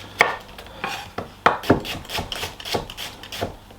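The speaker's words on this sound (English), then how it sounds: "And then I'm just going to give it a rough chop" Knife roughly chopping an onion on a board, a dozen or so irregular, close thuds and scraping cuts at an uneven rhythm.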